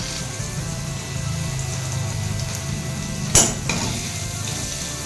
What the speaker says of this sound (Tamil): அவரைக்காய், கத்திரிக்காய் எல்லாமே வதங்கியாச்சு.